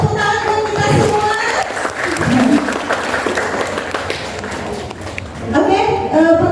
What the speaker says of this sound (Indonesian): Oke, banyak tepuk tangan buat kita semua.